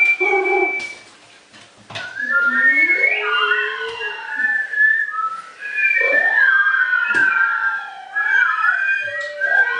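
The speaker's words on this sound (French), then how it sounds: "Les oiseaux, ils ont différents différents sifflements." Whistled birdlike calls, some short chirps and others long sliding tones, rising and falling clearly with brief pauses between phrases.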